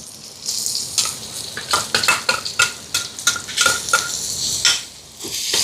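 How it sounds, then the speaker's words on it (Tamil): Onions sizzle in a pan as ginger garlic paste is added and stirred with a metal spoon, giving a steady close frying hiss broken by repeated scraping and clinking strokes against the pan, with no voices. "வெங்காயம் எல்லாம் வதங்கிட்டு பாருங்கள் இஞ்சி பூண்டு பேஸ்ட்டை சேர்ப்போம்"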